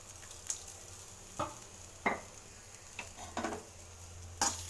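Ingredients for masala chapati are stirred in a hot pan, giving a faint sizzle broken by several sharp scraping clicks of a spoon against the pan at irregular intervals.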